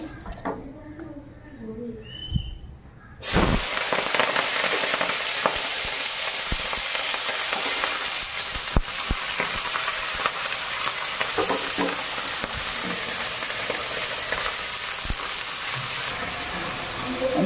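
Potatoes and onions fry in a pan, a steady close sizzle that starts suddenly after a few seconds of quieter kitchen sounds and runs on with occasional stirring clicks; faint talk underneath.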